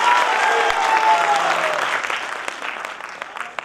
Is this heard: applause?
yes